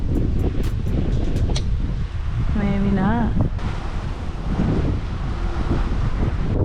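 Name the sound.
wind blowing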